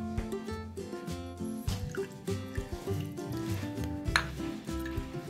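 Curd and milk being poured onto cooked rice in a pot for Marathi-style curd rice, a soft wet trickle and dribble with light stirring, close up and continuous, no talk.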